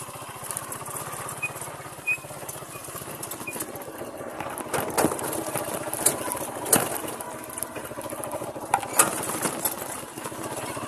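A motorcycle engine runs steadily throughout, with a dense, buzzing drone and a few louder bursts, heard up close outdoors with no talking.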